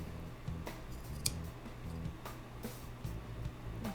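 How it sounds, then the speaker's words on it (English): Scissors snip through upholstery fabric for a Karmann Ghia rear seat, a series of close, crisp cuts coming in short uneven bursts over a faint background hum. "I'm going to cut along this edge, make a little trim there, and then I'm going to cut out this little rectangle."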